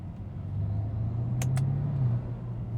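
A BMW M2 engine rumbles steadily at a low pitch, idling and revving slightly, with a couple of brief sharp clicks partway through.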